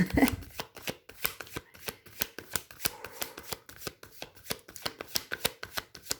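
Tarot cards are shuffled by hand close up, making a quick run of crisp, rhythmic riffling snaps and taps with no talking.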